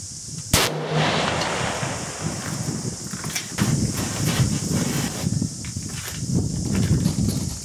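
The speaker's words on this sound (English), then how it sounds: "going to do a break and suppressor comparison today with the 22 Terminator, shooting the 90 grain verges at about 2900 feet per second" A single sharp rifle report from a 22 Terminator firing 90 grain bullets through a T1 Terminator muzzle brake, one loud close blast followed by rustling and outdoor background noise.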